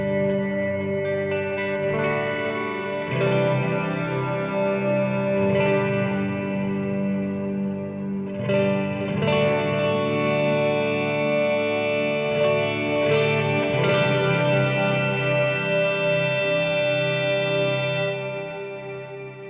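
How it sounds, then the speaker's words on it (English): Electric guitar on a single-coil neck pickup run through an Electro-Harmonix Super Ego pedal with delay and reverb, sustained layered chords swelling and overlapping in a long wash, fairly loud and steady with no voices. "this goes into the Electro-Harmonix Super Ego. I'll show you a little bit of what that sounds like."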